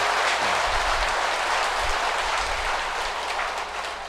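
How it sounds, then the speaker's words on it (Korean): Applause from the congregation at a Buddhist temple's first-day-of-the-month dharma service, a broad, even wash of clapping held at moderate level throughout, with faint low rumbles underneath. "박수 쳤지만 또 박수 한번 쳐서"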